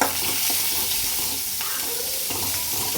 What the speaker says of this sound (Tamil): வெந்தயம், கடுகு, உளுத்தம்பருப்பு, சின்ன வெங்காயம், கருவேப்பிலை இதெல்லாம் போட்டு தாளித்து